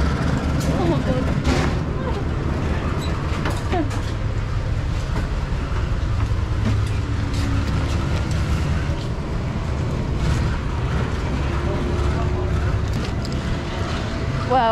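A passenger train pulls into a station in Bandung, Indonesia, with a steady, loud low rumble of wheels and carriages and occasional thin metallic squeals over it, while faint voices murmur in the background.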